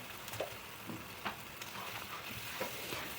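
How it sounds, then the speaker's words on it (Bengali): Ginger-garlic-onion paste and spices, with salt and turmeric, frying in oil for a chicken kosha: a steady, moderate sizzle with a few soft stirring scrapes scattered through it. No one speaks. "সমস্ত মশলাগুলোকে সুন্দরভাবে এবার কষিয়ে নেব যতক্ষণ না মশলা থেকে জল তেলটা ছেড়ে আসে"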